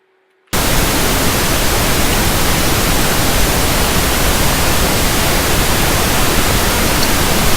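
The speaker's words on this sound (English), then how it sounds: "We started our analysis with pink noise." Loud, steady broadband hiss of pink noise switching on abruptly after a moment of silence and holding constant throughout.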